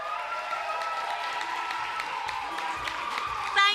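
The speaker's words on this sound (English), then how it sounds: "Clap for yourselves." A studio audience at a TV talent show claps and cheers in a steady, dense wash of sound that holds throughout, with a slightly louder burst near the end.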